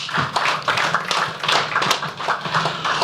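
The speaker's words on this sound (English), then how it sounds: "Please, another round of applause for our DG." Audience applause for the DG at a market engagement and press conference, a steady dense patter of many hands clapping at close to moderate distance, swelling and dipping in loudness without a break.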